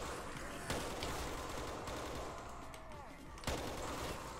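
Gunfire in the Call of Duty Black Ops 3 custom zombies game, dense continuous shooting with louder bursts near the start and near the end, under a constant game soundscape.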